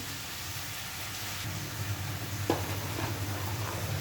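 Onion goes into hot oil in a pan, giving a soft, steady sizzle close by with a faint low hum beneath and a brief clatter partway through.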